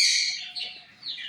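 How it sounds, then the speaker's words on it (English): Wild birds flock to a seed feeder outdoors, chirping and tweeting steadily in bright, overlapping calls with no talking. "A lot of birds."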